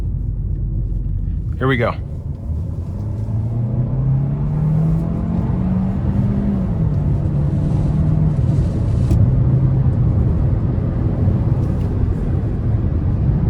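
A 2025 Hyundai Kona Limited with a 1.6-liter turbo four accelerates onto an interstate, a steady loud cabin rumble with engine tone rising slowly. A short spoken phrase comes near the start.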